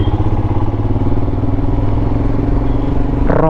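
A motorcycle ride in the rain near Munnar, with a loud continuous engine drone and rushing wind and road noise close to the microphone throughout.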